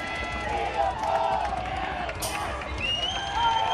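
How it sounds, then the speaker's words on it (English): Noisy crowd at a Topgun Union versus upTon game yelling and shouting continuously, a dense wall of overlapping voices and cheers with scattered whoops and higher shouts rising over the din. "There's so much craziness coming from the crowd right now."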